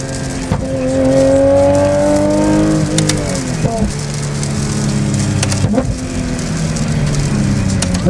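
A Porsche 911 GT3 or Corvette C8 Z06 sports car on a track, engine revving up with rising pitch, then dropping through shifts and settling into a loud, rough, fluctuating roar with sharp bursts, heard from close up.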